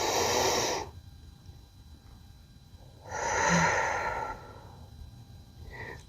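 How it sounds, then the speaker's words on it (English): Slow guided breathing exercise: a long, full breath out, a pause, then a deep breath in and the start of another exhale, close and clearly audible with no talking. "Inhale deeply. Exhale fully."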